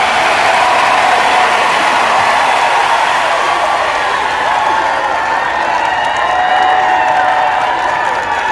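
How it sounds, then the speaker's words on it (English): A canned applause sound effect for a guest's entrance on a talk show, a constant, loud, unbroken roar of clapping and crowd noise with no variation in level. "Look, everyone's clapping."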